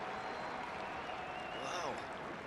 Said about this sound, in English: Cheer from the crowd.